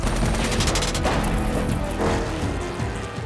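Rapid overlapping gunfire on a film stunt shoot for an action movie, a loud sustained burst of shots and booms filling the short clip with no talk.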